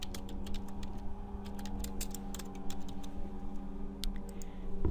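Computer keyboard keys clicking steadily while data is entered into a spreadsheet, a close run of quick, uneven taps over a low room hum.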